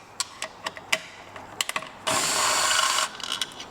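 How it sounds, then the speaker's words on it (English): An electric driver with an 8mm socket spins out the belt cover fasteners on a Piaggio BV400 scooter during a 12K service, a steady one-second whir following several short clicks and taps close by. "we're gonna go ahead and remove the rest of the fasteners around the belt cover with an 8mm socket"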